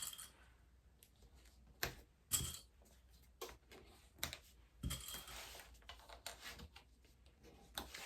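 Plastic sewing clips snap onto folded fabric as a front bib pocket is clipped into place on a pair of overalls, giving small, sharp, quiet clicks and soft handling rustles spaced irregularly through an otherwise hushed room.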